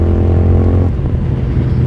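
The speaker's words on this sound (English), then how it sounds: "Listen to that, that's the stock pipe. It even has a little burble on the roll-off." Stock exhaust pipe on a motorcycle gives a raw, loud gargle that drops into a low, uneven burble as the throttle rolls off, close and steady for about two seconds.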